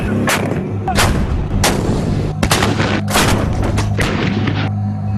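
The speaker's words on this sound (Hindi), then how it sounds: "ये artillery weapon systems indirect firing द्वारा लंबी दूरी तक जमीनी हमला कर सकते हैं।" Indian artillery guns fire in a rapid string of about seven loud, close booms that leave a continuous roaring rumble between the blasts.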